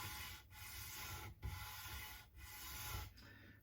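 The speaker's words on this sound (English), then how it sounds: "So I just carefully sand it down." A guitar nut is sanded flat along its base, giving four rhythmic back-and-forth rasping strokes with brief gaps between them, close and fairly quiet with no talking.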